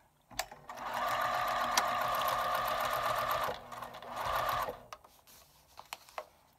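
A sewing machine stitches paper-pieced quilt fabric in two steady runs, a long fast burst and a shorter one, with clicks of handling before and after, close and fairly loud.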